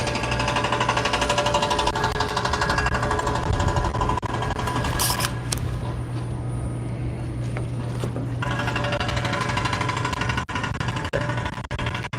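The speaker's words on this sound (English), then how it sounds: "we're getting a little bit further away from that jackhammer" A steady rapid mechanical hammering from a jackhammer at the SpaceX Starbase launch site, Boca Chica, Texas, runs continuously throughout, loud and close, with a few sharper knocks near the end.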